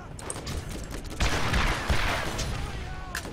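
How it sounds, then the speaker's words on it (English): Enemy gunfire in the Borderlands video game, a dense crackling burst of shots that swells midway and keeps rattling for a few seconds, fairly loud and close. "someone else is shooting at us, but I don't know where from"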